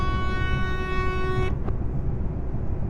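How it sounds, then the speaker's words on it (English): A steady, loud, train-like truck horn from a Mercedes Actros MP1 in Euro Truck Simulator 2 blares for about a second and a half, then cuts off abruptly, leaving a low engine rumble underneath. "I like the horn. It sounds like a train horn."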